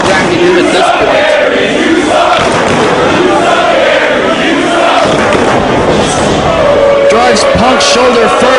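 A wrestling arena crowd in a WWE video game roars and chants throughout an Austin Aries match, a loud, dense wash of voices running under steady commentary.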